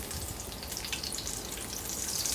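Chicken fillet fries in hot oil in a home kitchen, giving a steady, close crackling sizzle with bright spattering pops throughout and no talk.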